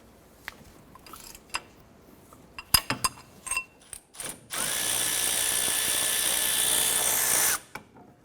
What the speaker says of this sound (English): Using a 13mm socket, let's go ahead and remove the 2 caliper bracket bolts here